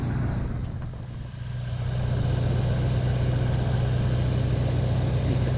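A 1984 Ford LTD Crown Victoria engine idles with a steady low rumble, loud and close, dipping briefly before settling into an even drone, with no talking.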